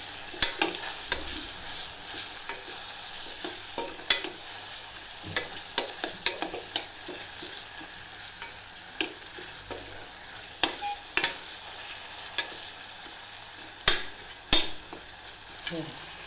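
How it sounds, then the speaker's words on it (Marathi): Something frying in hot oil while being stirred, a continuous hiss with repeated sharp clicks and scrapes of a spoon against the pan at an irregular pace, moderately loud and close, no speech. "तेलामध्ये छानपैकी फ्राय झाले बघा"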